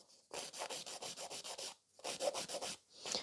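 A hand file rasps back and forth across natural fingernails to shorten them before a fiber gel application, about ten quick close strokes in a steady rhythm, a brief pause, then several more strokes.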